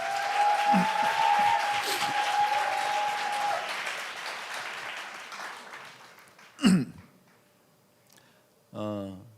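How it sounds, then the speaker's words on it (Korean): A church congregation gives a round of applause that starts dense and loud, then tapers off over about six seconds, followed by a short vocal sound and the start of a speaking voice. "일단은 자리에 박수 한번 주세요"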